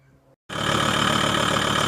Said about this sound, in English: Right, I'm just running the engine.